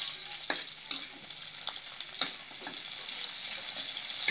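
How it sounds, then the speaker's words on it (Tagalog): Snails sauté with ginger in a hot pan over a wood fire, sizzling and frying steadily with scraping stirs and occasional clicks, close and fairly quiet. "Gigisa na natin yung ating suso."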